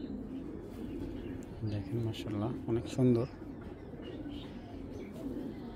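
A pair of pigeons coo close by in a short run of soft, throaty, rhythmic calls while someone talks over them.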